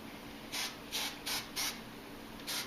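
Hairspray from a can is sprayed onto curled hair in about five short, separate hissing bursts with quiet gaps between them, close to the listener.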